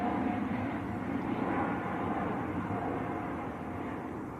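A Lufthansa airliner bound for Munich at Manchester Airport, its jet engines giving a steady, broad roar at moderate distance that fades slightly toward the end, with no talk.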